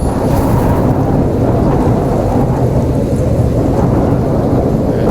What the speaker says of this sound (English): Yeah, storm's still going on.